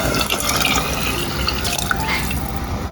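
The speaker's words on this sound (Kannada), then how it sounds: "ಸೊ ಟೋಟಲ್ ಆಗಿ 6 ಕಪ್ಪಷ್ಟು ನೀರು ಹಾಕ್ತಾ ಇದ್ದೀನಿ." Water is poured steadily into a pot holding rice and moong dal, a continuous close splashing and trickling fill with no talk.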